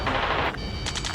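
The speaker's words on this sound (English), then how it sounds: "Taking fire! We're pinned down!" A short burst of gunfire in the flight combat game Ace Combat 7, rapid shots rattling loudly for half a second, then a brief pause and a few fainter cracks.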